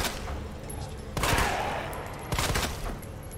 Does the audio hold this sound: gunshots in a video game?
yes